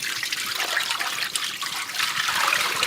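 Dirty water poured out of the separate waste tank of a Narwal Freo X robot mop, a steady close splashing and trickling stream that continues without pause.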